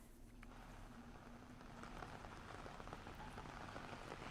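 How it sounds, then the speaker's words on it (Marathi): Rain falling in Mumbai, a soft, steady patter on surfaces that grows slightly denser, faint and continuous. "पावसाला आता सुरुवात झालेलीच आहे"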